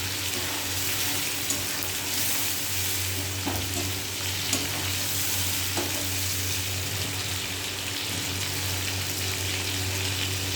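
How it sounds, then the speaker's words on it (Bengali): Prawns sizzle steadily in hot oil, a constant crackling hiss with a low hum underneath and a couple of faint clicks, no one speaking. "চিংড়ি মাছ ভাজা হয়ে গেছে, এবার এই মাছ ভাজার তেলে পটলটা ভেজে নেব"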